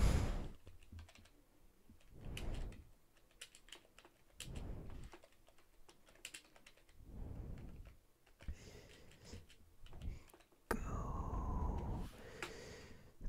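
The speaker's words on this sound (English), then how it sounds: "There's my keyboard, as you can clearly see." A computer keyboard gets typed on in scattered bursts of clicky keystrokes, faint and close. Heavy breathing and snorts come between the bursts.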